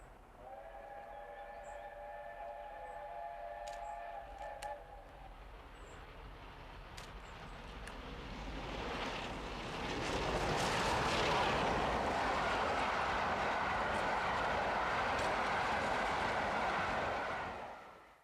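A steam locomotive on a British main line in 1995, whistle tones at first, then the train rushes past loud and close with a broad roaring, rattling rumble that holds steady before cutting off.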